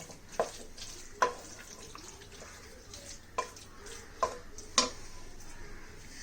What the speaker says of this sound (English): Mix it for a couple of minutes so that the vegetables are well coated with the masala.